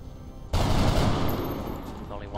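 A single heavy gunshot in the XCOM Long War video game bursts in suddenly and loudly, followed by a long rumbling, crackling tail that slowly fades.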